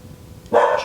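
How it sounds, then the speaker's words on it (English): A dog gives one sharp, loud bark near the end of a short stretch of quiet room noise. "I'm afraid we might have a bit of barking in between because they're a little bit excited today."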